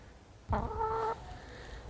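One hen among a small backyard flock lets out a single drawn-out cluck, a short nasal tone of moderate loudness over quiet outdoor ambience.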